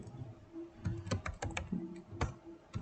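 Typing on a computer keyboard: a quick, uneven run of close clicks and key taps over a quiet room, with no talking.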